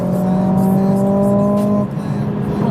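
Turbocharged four-cylinder engine of a 2020 Mercedes-AMG CLA 45 holds a steady, droning rev up close, then drops off suddenly partway through, leaving a lower rumble underneath.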